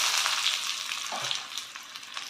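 Dry red chillies and onions sautéing in hot oil over low heat, a continuous bright crackling sizzle with small pops, close by and without talk.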